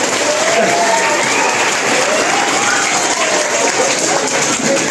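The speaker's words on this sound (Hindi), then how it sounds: "इनके लिए भी एक बार जोरदार ताली होना चाहिए।" Schoolchildren in a class-8 yoga lesson applaud loudly for a classmate. The steady, dense clapping goes on without a break, and young voices rise and fall through it.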